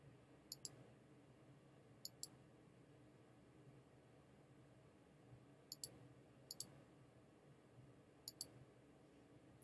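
Quiet computer mouse clicks arrive in crisp double taps, about five pairs spread unevenly over a faint steady hiss, with no talking.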